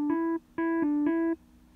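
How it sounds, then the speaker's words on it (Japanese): McDonald's french fry fryer alarm: a loud, bright electronic beep, a short pause, then three connected beeps in quick succession, alone with no talk. "今日はマクドナルドのポテトをあげた時の音、"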